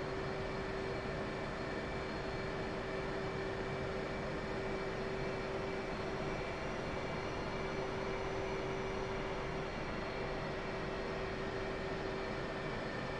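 F/A-18C jet taxiing on an aircraft carrier deck toward the catapult in the DCS flight simulator, a steady engine whine and broad rumble with a sustained tone that stays constant throughout, with no talking.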